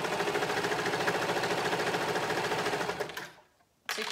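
A sewing machine stitches the front panel of board shorts, running at a fast, even rhythm close up, then slowing and stopping briefly before starting again.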